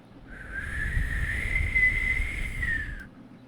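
A person whistles in imitation of a train conductor's whistle: one steady, fairly loud, clear tone held for nearly three seconds over low rumbling background noise, with no talking.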